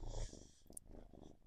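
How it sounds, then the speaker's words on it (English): A low, rumbling purr heard very close, soft and rhythmic, with faint breathy texture and no talking. "Let's see if you can hear him purring."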